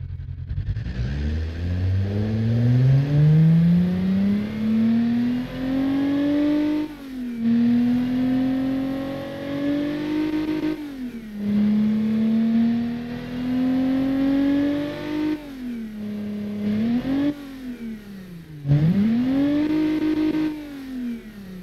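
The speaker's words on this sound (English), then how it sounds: "I love the V6 noise, especially in real life if it's a real Buzo V6." A Busso V6 car engine is revved repeatedly up close, each loud blip rising and falling in pitch with short pauses between, with no voices over it.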